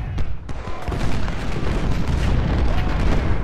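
Civil War-era cannons in a strategy video game boom in a few sharp blasts up front, then a dense, rolling rumble of continued fire fills the rest.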